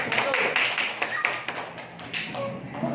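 A classroom of students claps for a presenting group, scattered, uneven hand claps close by, mixed with voices talking.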